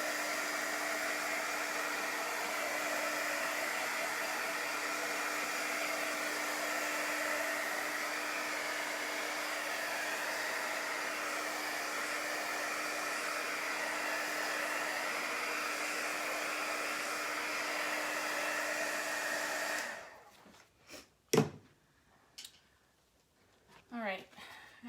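A hair dryer blows continuously to dry chalk paste on a bunny wreath, a loud, steady whoosh lasting about twenty seconds before it cuts off, followed by a few handling knocks.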